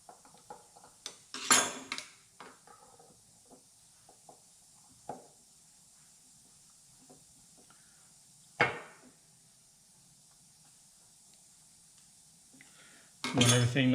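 Small metal parts of a Weber DCOE 40 carburetor clink and tick as they are dropped into the float bowl during a rebuild, a few sharp close taps spaced out amid near silence, with a louder clatter at the end.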